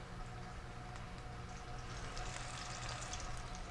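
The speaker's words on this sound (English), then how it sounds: "I hear a sizzle." Garlic sizzling in hot oil in a pan over medium heat, a steady close crackling hiss that holds evenly throughout and brightens slightly toward the end, with no talk.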